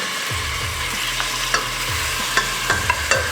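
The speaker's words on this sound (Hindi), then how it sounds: "ये मीट हमारा फ्राई हो रहा है" Meat fries in a pot with cinnamon, cloves and black pepper, giving a continuous close sizzle with repeated stirring scrapes and a few sharp clinks of the spoon against the pot.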